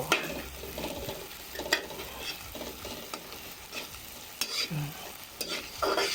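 Corned beef and cabbage sizzle in a pan for breakfast, with steady frying and the scrape of stirring up close, no talk over it.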